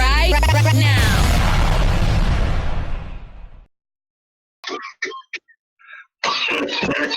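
Several people on a gaming podcast cough and clear their throats in short, harsh bursts after a loud stretch of intro music fades out.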